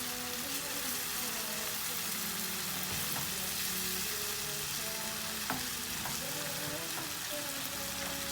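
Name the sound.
dried fish frying in fried spices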